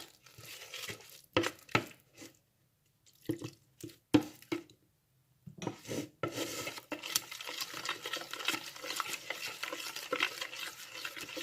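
Batter for fried chicken feet is stirred by hand after ice water is added, with quiet scraping and sloshing strokes, first intermittent with pauses and then a steady run of stirring.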